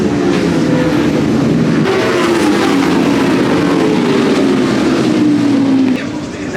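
Racing motorcycles roar off the start of an endurance race, a loud continuous wash of engines with a rising and falling pitch sweep, dense and steady throughout before easing slightly near the end.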